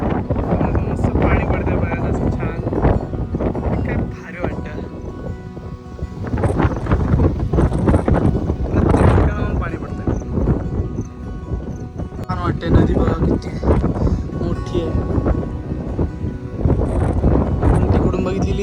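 Strong wind at the Matheran hill station viewpoint batters the phone microphone in loud, uneven gusts while someone talks throughout.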